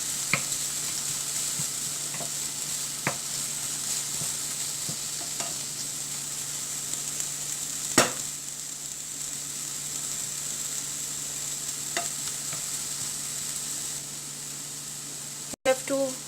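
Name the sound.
stirring tomatoes and onions frying in a pan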